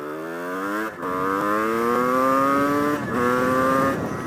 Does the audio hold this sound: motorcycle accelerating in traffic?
yes